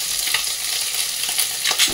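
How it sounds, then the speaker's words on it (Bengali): Mourala fish fry crisp in hot oil in a wok, giving a loud, dense, continuous sizzle with a few sharper crackles and a spatula stirring close at hand. "এখন মোরলা মাছগুলো কিন্তু কড়া করে ভাজা হয়ে গেছে"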